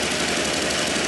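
A Wacker Neuson BS50-2i or BS60-2i rammer engine idles with a steady, dense mechanical rattle and hum, loud and close with no pauses.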